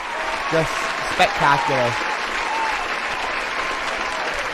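Audience applause at a livestreamed online event fills the whole stretch as a steady wash, with a few short spoken words rising over it near the start.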